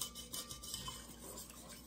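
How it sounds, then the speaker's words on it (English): Soft, continuous scraping and stirring as a whisk works broth into a sauce in a skillet for chicken pot pie, quiet and close with light metallic clinks. "just keep whisking. Don't stop whisking."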